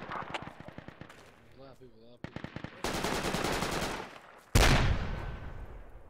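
Weapons fire in the military shooter Project Reality rattles in fast automatic bursts, then a heavy, loud blast near the end. A voice talks briefly at the start.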